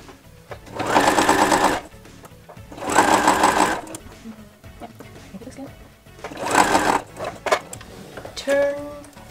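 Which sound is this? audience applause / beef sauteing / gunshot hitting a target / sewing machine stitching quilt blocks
sewing machine stitching quilt blocks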